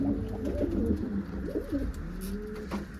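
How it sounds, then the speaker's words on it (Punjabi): Pigeons coo in low, rolling, throaty murmurs, several overlapping calls close by against a steady background hum. "ਜਰਦਾ ਕਬੂਤਰ ਤੇ ਜਰਦੀ ਕਬੂਤਰੀ"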